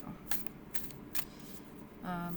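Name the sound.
shuffling tarot cards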